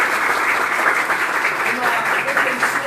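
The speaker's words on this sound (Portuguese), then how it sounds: "eu quero uma salva de palmas para a nossa querida deputada Damares" A crowd at an event against antisemitism and discrimination applauds deputy Damares, a loud, dense wash of clapping that holds steady for a few seconds while a voice carries on over it.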